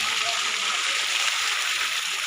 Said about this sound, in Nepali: यस्तो पानी चलिरहेको नि